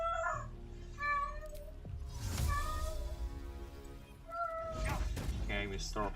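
A cat in the Baldur's Gate video game meows repeatedly in drawn-out, wavering cries, mixed with game sounds and a brief thud.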